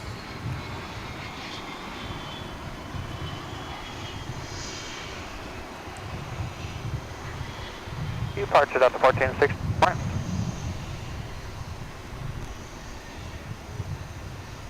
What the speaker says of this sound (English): Here comes an American Eagle flight from Abilene, Texas